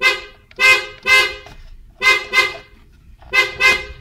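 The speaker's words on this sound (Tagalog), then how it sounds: "Tapos ngayon, pipress na natin yung horn switch." A car horn, just repaired and tested by pressing the horn switch, honks in short bursts: two quick toots, a pause, two more, then another pair, loud and close with nothing else around.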